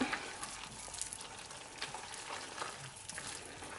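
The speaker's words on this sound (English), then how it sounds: "Our creamy shrimp Alfredo has been cooking for 5 minutes, so I'm just gonna stir it up." A creamy shrimp Alfredo simmering in a pan on the stove is stirred, bringing a soft bubbling sizzle with light scraping strokes at close range.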